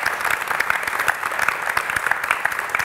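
A live audience at an agricultural forum panel applauds steadily, dense and close, with sustained clapping throughout.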